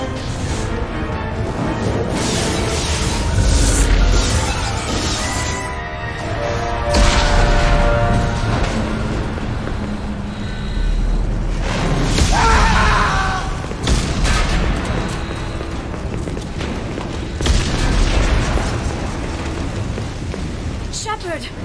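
Spaceship terminals exploding during a space battle in the video game Mass Effect, with repeated loud booms and crackling blasts over a dense, rumbling bed of fire and alarms, continuing steadily throughout.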